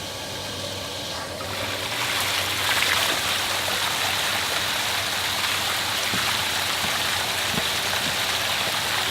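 Water from two hoses gushes steadily against a flood bag barrier, a continuous rushing, splashing wash that swells slightly after the first second and stays loud and even throughout.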